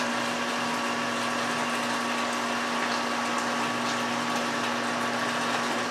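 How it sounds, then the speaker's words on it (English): A pump moves about three gallons of water for brewing a Kentucky Common ale, giving a steady, unbroken mechanical hum with a constant whirring drone at close range. "All right, so let me pump over about 3 gallons."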